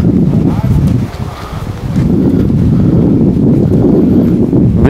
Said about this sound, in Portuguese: Ventando que nem um louco aqui.